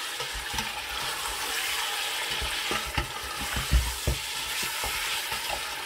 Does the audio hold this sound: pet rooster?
no